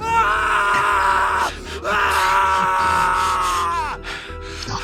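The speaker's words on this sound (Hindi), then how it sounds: "वो लड़का चिल्लाने लगता है।" A man screams loudly in an audio drama after being stabbed with a knife, two long anguished wails with a brief gasp between them, close and intense.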